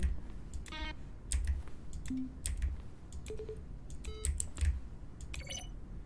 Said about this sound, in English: A collection of the sounds used throughout the game when buttons are pressed. Each sound is a mix of a keyboard stroke and a synthesized tone.